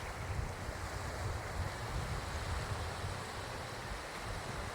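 Ocean waves at high tide along a coast near a naval base, a steady, dense wash of surf with wind buffeting the microphone, continuous and fairly close with no distinct breaks.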